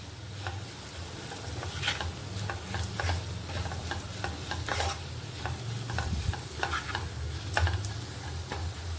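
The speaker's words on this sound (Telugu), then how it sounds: "ఇప్పుడు ఈ కారం అంతా గోంగూరకు బాగా పట్టేలాగా కలుపుకోవాలి." Gongura leaves are stirred with a pounded chili-garlic paste in an oily pan, with steady rhythmic spatula scrapes over a low sizzle, close by and with no talking.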